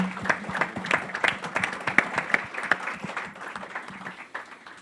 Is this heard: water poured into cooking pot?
no